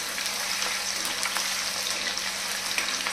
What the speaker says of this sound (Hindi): आलू को भी हम फ्राई कर लेंगे।